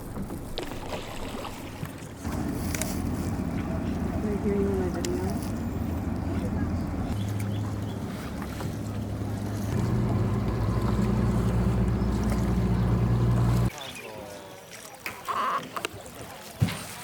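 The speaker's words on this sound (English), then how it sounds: "heading on a traditional Vietnamese boat to a hidden lagoon" A traditional Vietnamese boat travels across Ha Long Bay, its steady engine drone and water rush running continuously, with faint voices mixed in before the noise drops away near the end.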